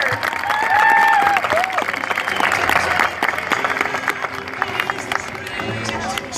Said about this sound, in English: how about a big round of applause for my buddy Bruiser?